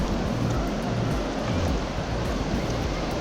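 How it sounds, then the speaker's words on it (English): Rough ocean surf rolling onto a beach, a continuous broad roar of breaking waves with low rumble, heard close and steady with some wind noise, no talking. "It's been really rough surf lately."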